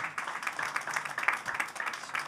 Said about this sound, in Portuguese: Uma salva de palmas para a nossa Amélia, a Mil